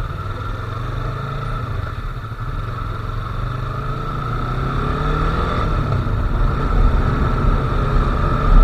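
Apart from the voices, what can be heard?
Yamaha R3 motorcycle parallel twin engine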